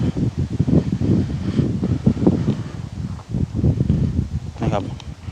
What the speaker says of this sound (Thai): ข้างบนลมเย็น